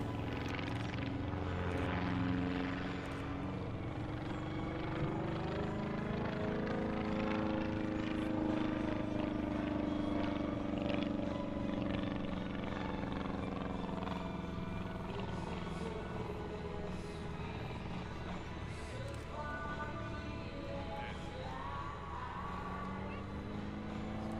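Small single-engine Fournier light aircraft performing an aerobatic display at an airshow, its engine droning steadily and loudly throughout, pitch rising and falling with the vertical manoeuvres, with a voice talking over it.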